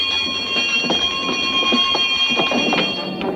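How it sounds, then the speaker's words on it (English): Shipboard alarm ringing aboard a 17th-century-style sailing vessel, a steady high electric bell tone sustained throughout at moderate loudness with faint clattering commotion underneath. "Sound the alarm."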